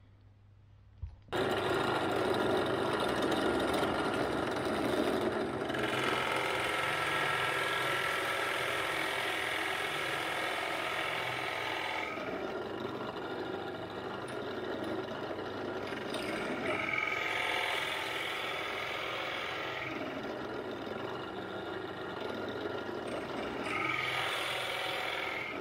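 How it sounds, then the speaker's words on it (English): A drill press bores through a wooden cigar box guitar part in a woodworking workshop, a steady loud mechanical whir with grinding cutting passes that rise and ease in several pulses, with no talk over it. "we'll take that over to the drill press and just drill that out"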